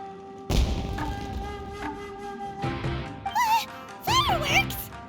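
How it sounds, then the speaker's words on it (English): Fireworks go off in Genshin Impact: several deep thumps and booming bursts arrive in a row, with sharp crackling and whistling streaks that sweep and warble over a steady musical background. "It sounded like fireworks."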